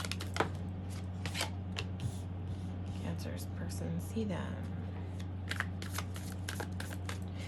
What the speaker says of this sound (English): You might see me sometimes throughout the readings like shuffling in different ways.